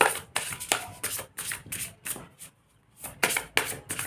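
Tarot cards rustle and slap as they are handled and one is drawn from the deck: close, repeated papery swishes in a steady rhythm, with a brief lull in the middle.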